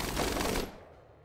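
Rapid burst of video game gunfire, a dense crackling volley that cuts off abruptly after half a second, leaving a faint fading tail.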